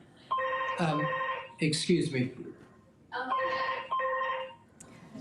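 A telephone rings in a TV news studio during live coverage of the Queen's death, two bursts of electronic ringing with people talking between them.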